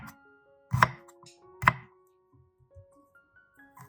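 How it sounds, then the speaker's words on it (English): A knife cuts through unpeeled ginger on a cutting board in two sharp, distinct thunks, with faint softer taps following, close and quiet. "Then, slice it into thin strips."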